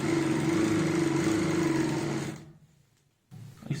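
Electric sewing machine stitching a salwar runs in a fast, steady whirr for about two seconds, then stops; a short silence follows before a brief rustle.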